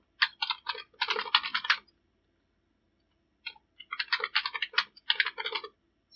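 Bursts of typing on a computer keyboard, quick clustered keystrokes in two runs separated by a pause of a couple of seconds, close and clear with no talking.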